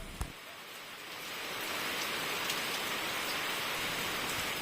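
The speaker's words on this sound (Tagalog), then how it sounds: "Pagsapit ng hapon ay bumuhos ang malakas na ulan." Heavy afternoon rain pours down steadily, a dense, even hiss that swells slightly after the first second and holds loud and close, with no voices.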